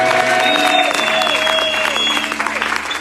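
Church congregation breaking into applause to acclaim the Lord, a steady wash of clapping from a crowd with a voice and sustained musical tones carrying over it.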